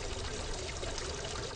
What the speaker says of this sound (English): The soothing sounds of trickling water in this Manoa garden